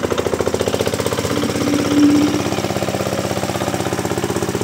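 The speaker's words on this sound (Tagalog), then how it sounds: "Tinetesting po muna natin paandarin yung makina para makita natin yung tubo." A diesel engine driving a water pump chugs in a fast, steady knocking rhythm, loud and close, with no talk over it.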